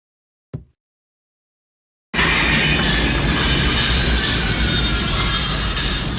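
A video-game train arrives at a station in Master Detective Archives: Rain Code. A short tap sounds first, then after a pause a loud, steady rumble of rolling wheels and squealing rails starts and holds.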